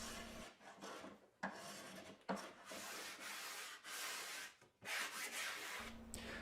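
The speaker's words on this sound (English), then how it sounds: "smoothed and faired the curve of the templates at the bench using a spoke shave and a sanding block" Steady rasping strokes of a spokeshave and a sanding block smoothing the curve of wooden templates at a bench, repeated in bursts with short pauses between passes, close by.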